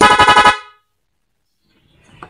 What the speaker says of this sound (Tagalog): Rapid horn yan.